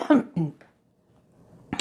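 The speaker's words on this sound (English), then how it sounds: "I have been coughing quite a bit, and I, right on cue," A person with a chronic illness coughs, with two short coughs close together near the start, then quiet, then another brief burst at the end; the coughs are close and moderately loud.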